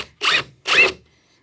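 Two short, loud bursts of a power drill boring into a deck board with a paddle bit, each a harsh whirring grind lasting a fraction of a second, close and without talk.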